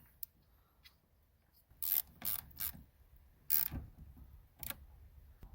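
A ratchet clicks in short bursts as the negative battery terminal is tightened back on a Volkswagen Mk5, with a few faint mechanical taps between the close, crisp ratcheting strokes.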